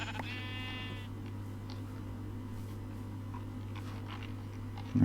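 Sheep bleats from the Minecraft video game, a single short wavering bleat near the start over a steady low electrical hum and quiet background, with no talking.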